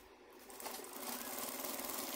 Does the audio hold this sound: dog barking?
no